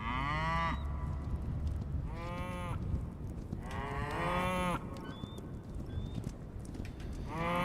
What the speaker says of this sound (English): Weirdly, I've noticed I have tamed these cows,